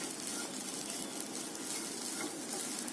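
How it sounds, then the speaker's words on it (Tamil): Grated coconut sautéing in ghee in a pan, a steady broadband sizzle with stirring, continuous and close throughout with no voices. "தேங்காய் போட்டு நல்லா கொஞ்சம் வதக்கிக்கோங்க."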